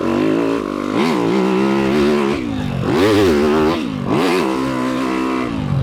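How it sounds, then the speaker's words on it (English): Motocross bike engine in the MX23 video game, loud and close, revving up and down repeatedly in rising and falling sweeps as gears shift through a corner and jump, with no talk. "This is all going to be 3rd gear around the corner, 4th gear going off the jump."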